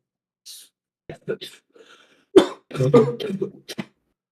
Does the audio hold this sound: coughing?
yes